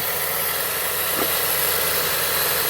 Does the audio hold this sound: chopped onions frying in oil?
no